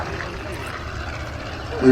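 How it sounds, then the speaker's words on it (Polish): A CSS-13 propeller biplane, the Polish-built Polikarpov Po-2, drones steadily from a small airfield near Sobienie, its engine hum running low and continuous under someone talking, with a louder burst at the end. "tutejszy z lotniska Sobienie samolot CSS-13"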